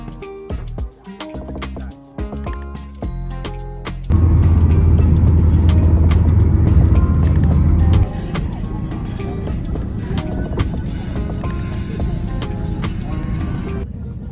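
A tro-tro minibus rides along a road in Ghana, its engine and road noise forming a loud, steady rumble that grows heavier after a few seconds, with tonal sounds at the start and faint voices.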